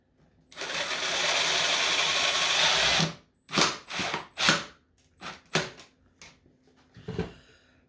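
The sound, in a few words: driving a screw into a dryer vent pipe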